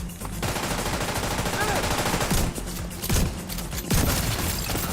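Gunfire in the online shooter game The Division 2, with repeated loud bursts of automatic fire and single heavy shots close by, continuous across the clip, with some speech mixed in.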